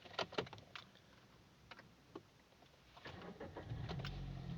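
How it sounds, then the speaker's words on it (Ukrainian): A Kia Pro Ceed 1.4 with a manual gearbox starts from the key: faint clicks at first, then the engine catches and settles into a low, quiet hum. "Заводимо автомобіль."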